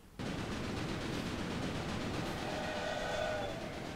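Trains in the railroad simulation game Railway Empire rumble along steadily with a clattering rail sound, and a faint horn-like tone rises near the end, with no talking.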